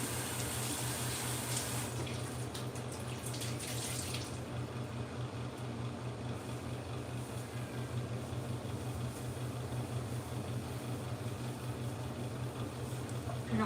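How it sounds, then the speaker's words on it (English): Tap water runs steadily into a kitchen sink during counter cleaning, a close continuous rush with brighter splashing early on before settling into an even flow. "Let me wash the counter first."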